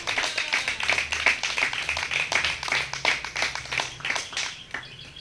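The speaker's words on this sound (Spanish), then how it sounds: "Denle un aplauso al Eterno." A congregation at a Spanish-language Torah portion service applauding, with individual claps distinct in an uneven rhythm, moderately close and fairly quiet, with no talk over them.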